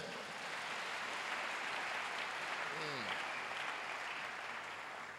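A church congregation applauds and cheers in a sustained, steady wash of clapping, with one brief voice rising near the middle.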